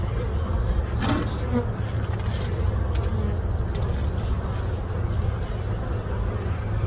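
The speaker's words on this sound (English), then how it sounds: "I do see a couple of bees coming in with some yellow pollen." Steady, dense buzzing of many honey bees at close range at a hive, a continuous insect drone with a low rumble underneath and no pauses.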